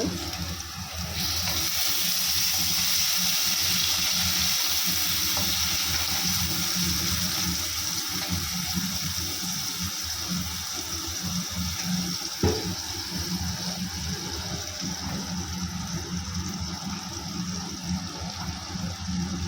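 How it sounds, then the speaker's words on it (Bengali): Water is poured into a bowl while fish curry is being made, a steady continuous splashing flow that stays fairly loud and even for the whole stretch with no talking. "বাটিটাতে জলটা দিয়ে দেবো অল্প জল বেশি না"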